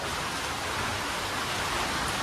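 Heavy rain pours down in a dense, unbroken hiss, steady and loud throughout with no voices.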